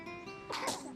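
A single short sneeze from a person, a sudden burst of breathy noise in a quiet room with no talking.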